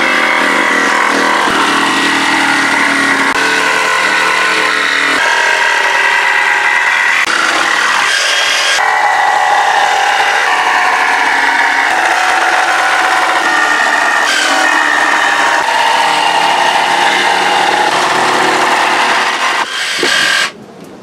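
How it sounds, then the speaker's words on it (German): A jigsaw cuts a curve out of glued-together wooden beams, buzzing loudly and continuously for most of the time with slight shifts in tone, then stopping abruptly at the end. "schneiden wir jetzt mit der Stichsäge die Rundung aus"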